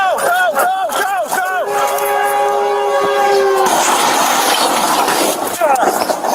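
Video game train rolling along a railroad track, a loud steady rumble with a long sustained horn blast in the first half, under overlapping talk and shouting from players.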